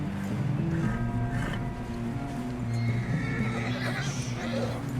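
A horse whinnies and its hooves clip-clop in the video game Red Dead Redemption 2, close and clear, with game voices speaking alongside.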